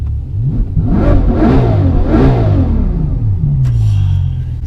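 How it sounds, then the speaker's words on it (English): A Bugatti Chiron's V12 engine revs loudly up close, rising and falling in two or three strong surges over a deep, continuous rumble. "I'll tell you what is smooth, this V12 engine."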